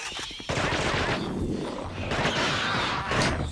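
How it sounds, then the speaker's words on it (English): Rapid gunfire in The Thing on PS2 rattles almost continuously, dense bursts of shots layered with game action noise, loud and close throughout. "Shoot the damn gun"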